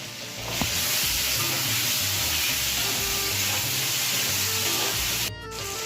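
Diced potatoes frying in a pan, a steady loud sizzle and hiss close by that holds throughout with a few faint stirring knocks underneath.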